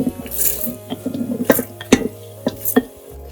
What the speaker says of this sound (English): I'm going to add in the washed rice.